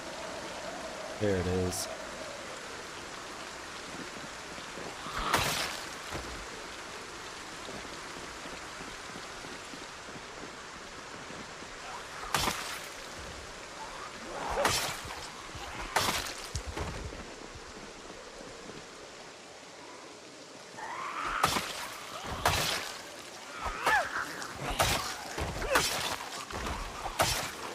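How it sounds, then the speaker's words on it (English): Rain falls steadily in Project Zomboid at a woodland cabin, a soft, faint hiss running throughout. Occasional sharper bursts cut through it, and a voice speaks briefly near the start. "the rain finally starts letting up and now it's thundering"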